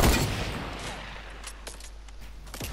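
Gunshots from a pump shotgun in a Fortnite build battle: a heavy blast at the start, then a few scattered, fainter shots trailing off over a fairly quiet background, with no voices.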